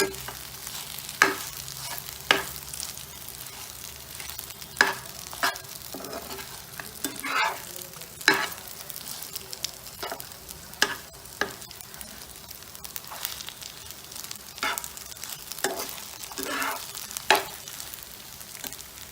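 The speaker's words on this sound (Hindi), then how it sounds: "इसमें हम 2 हरी मिर्च डालेंगे और इसको थोड़ी देर और भूनेंगे।" Green chillies stir-fried in a pan for a vegetarian Indian dish: a steady low sizzle runs throughout, broken by repeated sharp scrapes and clacks of a spatula against the pan at an uneven pace. No one speaks.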